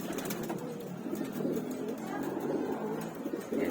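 Racing pigeons coo softly and continuously in a loft, a low murmuring chorus at moderate distance with faint background noise.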